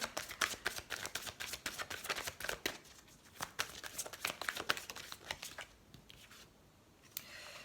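Tarot cards are shuffled by hand in quick riffling bursts that rustle and flick close by, stopping briefly and picking up again, with no talk.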